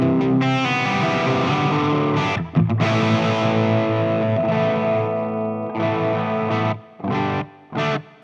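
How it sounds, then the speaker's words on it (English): Electric guitar through a Zoom 505 processor's distortion patch, loud harsh sustained chords, then several short choppy stabs with sharp cutoffs near the end. "we've actually got a distortion one again, but that sounds awful"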